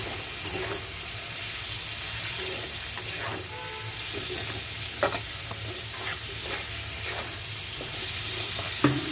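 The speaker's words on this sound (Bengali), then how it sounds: "এবার চিংড়ি মাছটা দিয়ে দাও। চিংড়ি মাছটা দিয়ে দিলাম।" Shrimp frying with onions in a pan, a continuous sizzle with occasional stirring clicks and scrapes, close by, with a low steady hum underneath and no speech.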